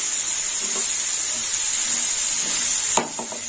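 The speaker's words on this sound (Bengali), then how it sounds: "হলুদটা একটু ভাজা হবে।" Turmeric powder frying in a pan of neem leaves and beans, a steady close hiss and crackle of hot oil that runs throughout, with a few light clinks near the end as the sizzle dips.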